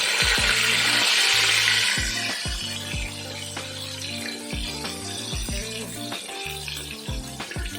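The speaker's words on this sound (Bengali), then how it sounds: "এক হাতে মাছ উল্টানো সেই সঙ্গে গরম তেল ছিটকাচ্ছে" Pieces of catla fish fry in hot, splattering oil, a broad sizzle that is loudest at first and then settles, broken by repeated knocks and clatters of turning and handling in the pan.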